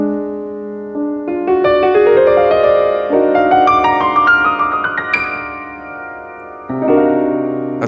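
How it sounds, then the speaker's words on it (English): A chord voiced in the Locrian natural 2 mode, built up note by note into a sustained ringing chord, then a brief gap and a fresh attack near the end, played alone with no talking. "That's the sound of Locrian natural 2."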